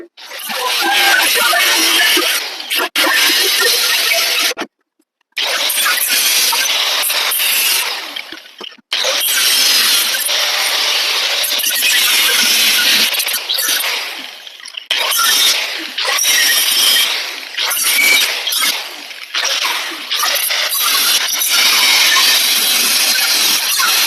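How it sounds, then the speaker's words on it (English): An angle grinder cuts into the metal cab of a 1954 International R-220 truck, loud and close, in long harsh bursts broken by short pauses where the tool stops and restarts. "I'm gonna get my grinder and start cutting away."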